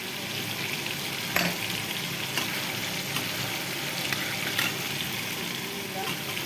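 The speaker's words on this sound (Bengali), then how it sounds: "মাংসটা ভাজা ভাজা হয়ে গেছে" Meat fries in a pan with a loud, continuous hiss and crackle, broken by a few sharp clinks of stirring, heard close and alone without talk.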